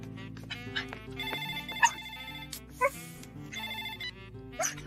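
A telephone rings after a redial in a Hindi comedy film scene, its bell tones repeating in short bursts over a layered musical background.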